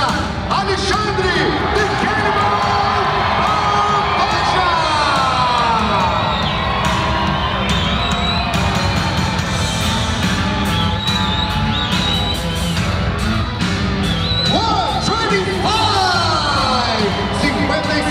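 A large crowd at the UFC 301 ceremonial weigh-ins cheers, whoops and applauds loudly and continuously, with an announcer's amplified voice speaking over the din.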